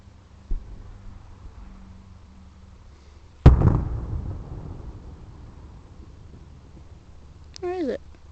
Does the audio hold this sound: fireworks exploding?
yes